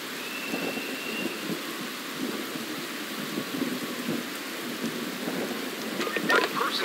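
Thunderstorm in the video game Emergency 5, with steady heavy rain hissing throughout, low thunder rumbling underneath and a brief whistling tone early on, ending with a few crisp clicks.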